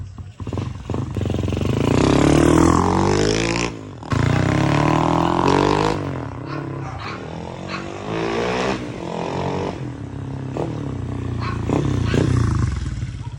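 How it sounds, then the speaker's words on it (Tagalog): A motorcycle engine with a freshly re-jetted carburetor is revved hard, a loud, close roar rising and holding through several long throttle pulls with short dips between them. "Kita nyo naman mga boss, pagkapiga ko, walang putol yung karburador natin."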